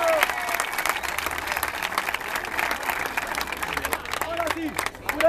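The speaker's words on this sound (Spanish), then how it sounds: "Un aplauso para Romano Nesas y Nicolás Felicidad." A crowd at a 3vs3 rap battle event claps loudly and continuously, with cheers and voices shouting over the applause and a brief lull near the end.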